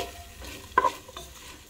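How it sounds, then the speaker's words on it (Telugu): Ivy gourd fry with crushed garlic paste being stirred in a pan, a quiet sizzle under a few soft spoon scrapes, with one sharper clink near the middle. "సో ఇలా మొత్తం మళ్ళీ ఒకసారి కలిసేలాగా కలుపుకోవాలి"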